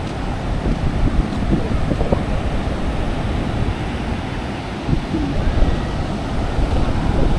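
Rough surf rolls in at a beach in Bali, with a continuous roar of waves and wind buffeting the microphone, steady and fairly loud with small swells in level.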